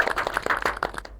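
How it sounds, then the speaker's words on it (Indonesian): A small group claps briefly at the opening of a podcast, producing a quick burst of close, uneven handclaps lasting about a second. "Tepuk tangan dulu dong."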